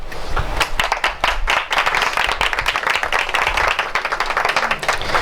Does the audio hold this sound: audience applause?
yes